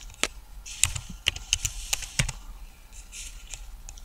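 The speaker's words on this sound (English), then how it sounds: "I am typing" Typing on a computer keyboard while renaming image files on a desktop: a steady run of sharp, close key clicks in an uneven rhythm, with no talking.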